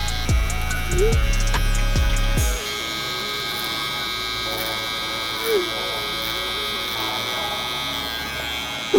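Electric hair clippers drone with a steady buzzing hum while cutting a mid-low fade buzz cut, the lever set near three-quarters, a few handling knocks early on and no voices.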